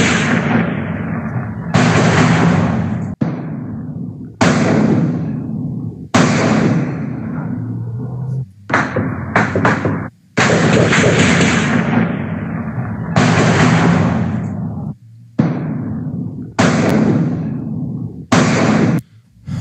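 Gunfire and detonations during an armed clash involving soldiers: a long series of loud, close, sharp blasts and bursts, some clustered in rapid volleys, separated by brief silent gaps.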